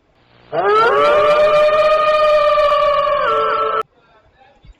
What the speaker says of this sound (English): Yes, I have a Wolfo sound alert.